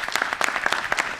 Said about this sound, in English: let's clap in for masvingo